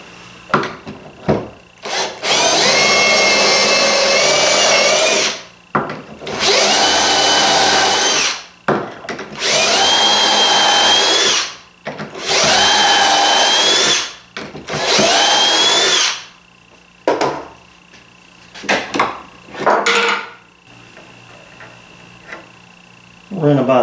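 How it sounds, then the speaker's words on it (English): A power drill whirs loudly in several long bursts of a few seconds each, drilling a poker table top, separated by brief pauses and some clattering, close up. "that's where I'm gonna drill my hole"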